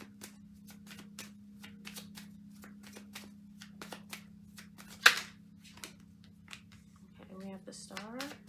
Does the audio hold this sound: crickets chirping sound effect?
no